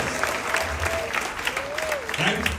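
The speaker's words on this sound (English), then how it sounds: "Give them a round of applause." Applause from an outdoor crowd at a children's carnival band launch, a steady wash of clapping throughout, with voices and a sustained tone heard under it.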